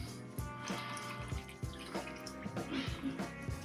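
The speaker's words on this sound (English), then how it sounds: "we're just going to put a little more apple cider vinegar on top" Apple cider vinegar pours into a jar of pickles in an uneven, splashing trickle, with liquid sloshing and small drips close up and fairly quiet.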